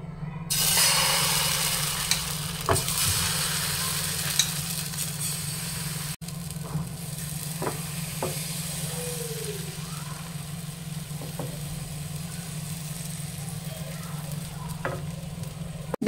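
Pitha batter fries in a hot pan with a soft, continuous sizzle over a low hum, broken by a few faint clicks and light scraping.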